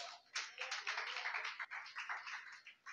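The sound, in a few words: congregation clapping hands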